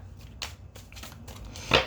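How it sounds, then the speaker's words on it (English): Tarot cards are shuffled by hand in a few quick riffling bursts, close and crisp, with the last burst the loudest. "shuffle, shuffle, 2 more times is what I'm hearing."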